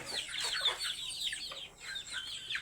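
Several chickens cluck busily close by in a farmyard, a dense run of short, overlapping clucks that carries on throughout.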